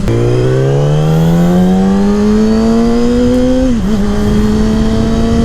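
A Yamaha R6 motorcycle fitted with a 160 rear wheel and a +3 rear sprocket, its engine revving loud and close as it accelerates in one long rising pull, with a short dip near the end before it climbs again.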